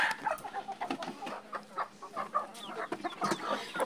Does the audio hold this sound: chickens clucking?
yes